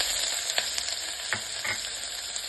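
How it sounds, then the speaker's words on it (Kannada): Onions tipped into spluttering mustard seeds in hot oil for a Karnataka-style hesarubele gravy, a steady close sizzle with a few sharp pops and stirring scrapes, no voices. "ಸಾಸಿವೆ ಸಿಕ್ಕಿದ ತಕ್ಷಣ ಈರುಳ್ಳಿ ಹಾಕ್ಕೊಂಬಿಡಿ."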